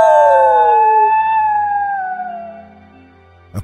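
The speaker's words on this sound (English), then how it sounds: "I hear her howl echoed by two wild dogs." Wild dogs howl in the video game Alluvium, two animals echoing one another. Long, loud, drawn-out howls slide downward and fade over about three seconds, ending with a short click.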